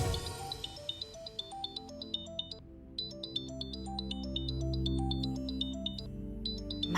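A mobile phone rings with a bright, repeating electronic melody over soft sustained background music, the tune looping cleanly at moderate volume.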